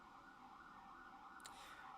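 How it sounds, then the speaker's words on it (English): An ambulance siren wails steadily and loudly without a break, holding close by, with a brief sharper burst of noise near the end and no talking over it. "here comes another ambulance"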